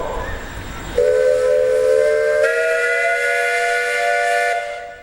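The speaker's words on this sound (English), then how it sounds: "you got a whistle up there" A steam whistle on a steam traction engine at a threshers' steam show lets out one long, loud blast that shifts pitch partway through, over steady hissing steam, close by and with no voices.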